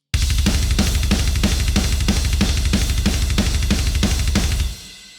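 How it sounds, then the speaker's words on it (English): A steady metal drum groove with straight 16th notes on the kick under quarter-note snare and cymbal hits, loud and close, stopping abruptly near the end. "It goes to straight 16th notes on the kick drum, quarters on the snare, quarters on a cymbal."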